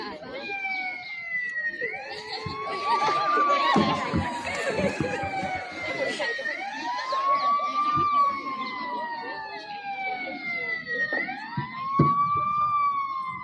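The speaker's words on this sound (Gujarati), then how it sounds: "એમ્બ્યુલન્સનો અવાજ આવે છે પણ એમ્બ્યુલન્સ દેખાતી નથી." An ambulance siren wails through a repeated rising and falling tone, starting loud and nearby and continuing under a murmur of people and voices during a school road-safety drama.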